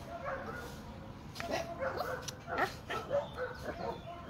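Mixed-breed mutt making a few short yips and barks outdoors in the morning, moderately close, amid light background noise.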